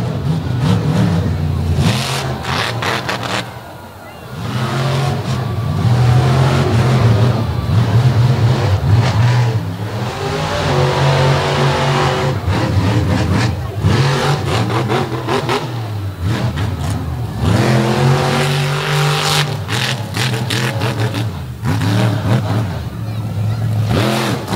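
Warped Motorsports Toxic 2.0 monster truck from Frederick, Maryland, revving loudly through a freestyle run at a beach show, its big engine surging and dropping in repeated bursts under a commentator's voice and crowd noise.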